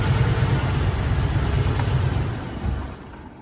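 A car engine idles roughly on four cylinders with a dead ignition coil, a low uneven rumble close up that fades near the end.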